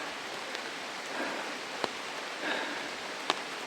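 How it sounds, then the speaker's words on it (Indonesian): Steady rain falls on a mountain hiking trail on Ciremai, a faint, even hiss with a few soft drop taps and no talking. "Hujan guys."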